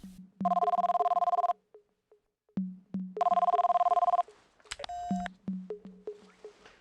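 A telephone rings in an X-Files video game in two long electronic bursts separated by a pause, followed by a few short beeps and clicks, close and clear.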